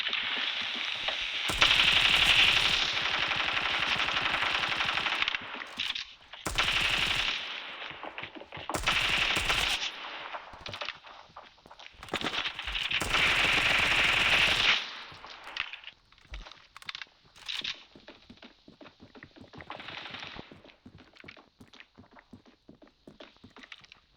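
Bursts of automatic gunfire in the mobile shooter Standoff 2, coming in several loud sustained volleys across the first fifteen seconds, then thinning into scattered quieter shots and clatter.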